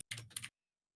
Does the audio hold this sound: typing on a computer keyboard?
yes